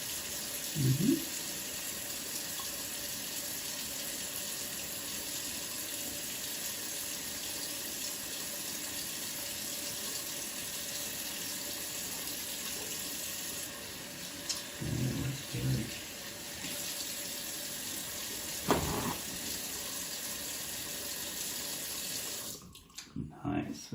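A bathroom tap runs steadily as hands are washed, a soft continuous hiss of water filling the background with occasional splashes and brief knocks, ending in a short cluster of sharper clatter.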